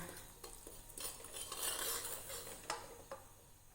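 Semolina roasting in ghee for moong dal halwa, stirred in a pan: quiet metal spoon clinks and scrapes against the pan over a faint background sizzle.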